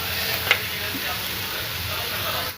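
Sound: masala frying in oil in a pan

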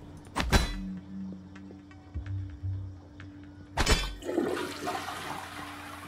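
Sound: toilet flushing in the video game Prey

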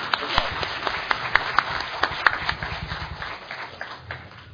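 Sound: audience applause

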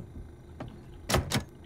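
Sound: door being hacked open in the video game 7 Days to Die

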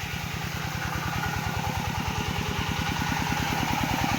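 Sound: engine-driven pump draining a fish pond

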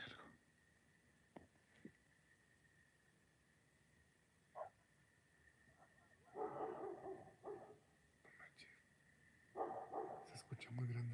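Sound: large dog barking at night

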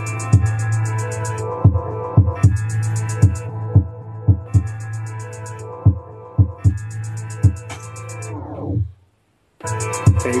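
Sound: beat repeat effect on MPC sampler

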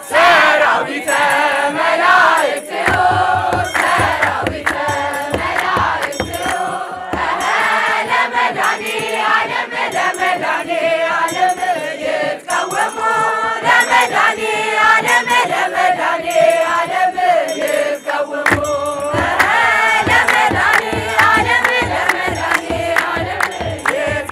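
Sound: crowd ululating in celebration

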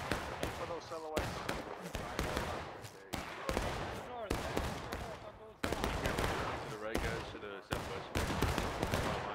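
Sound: musket gunfire in the video game War of Rights

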